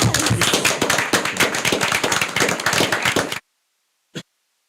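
A burst of lively applause from a group at a county board of commissioners meeting, dense clapping that stops abruptly, followed by silence and one last thud.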